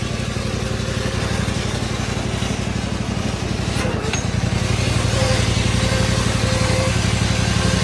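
A racing lawn mower fitted with a swapped-in V-twin engine revs hard and accelerates, a loud, steady, throbbing engine drone running close throughout.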